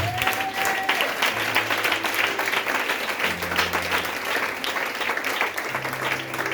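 A church congregation applauding together during a sermon, sustained dense clapping from many hands filling the room, steady and fairly loud throughout.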